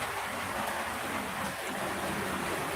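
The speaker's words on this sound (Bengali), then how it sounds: "ঘরের থেকে বাহিরে যেতেও ভয় লাগে এত পরিমাণে বৃষ্টি হইতেছে" Torrential rain pours down without letup, a dense, steady roar of water that stays loud and even from start to finish, with no voices.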